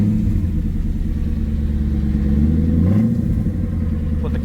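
A Ford Mustang GT engine, with no O2 sensor and worn catalytic converters, idles low and steady, then briefly rises in pitch as it is revved, settling back down near the end.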